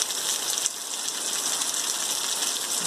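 Steady, dense rain pouring down on a rural smallholding in Brazil, a continuous even hiss of drops with no pauses and no voices.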